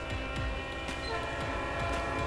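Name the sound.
Leslie S3L air horn on locomotive, video game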